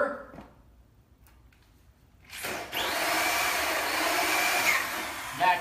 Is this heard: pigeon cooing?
no